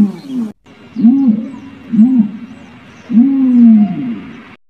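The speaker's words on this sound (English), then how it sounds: "Ostrich." An ostrich gives three or four deep, booming hoots in a row, loud and close, each a low resonant swell separated by brief pauses.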